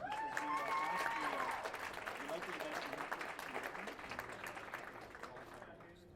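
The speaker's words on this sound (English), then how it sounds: "Our bronze medal, give me a big ovation for Caitlin Sparks." Audience applause for a bronze medalist at a women's powerlifting meet, moderately quiet and distant, beginning fairly full and slowly thinning out, with a voice audible over the start.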